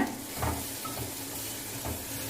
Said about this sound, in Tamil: உப்பு சேர்த்துட்டு ஒரு ஒரு நிமிஷம் அப்படி வதக்கி விட்டுக்கோங்க